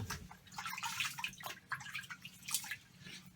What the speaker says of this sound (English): Just splash some water on my face